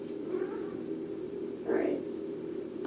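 A house cat meows twice in the background, a soft cry early on and a louder one later, both under steady room hum while nobody speaks.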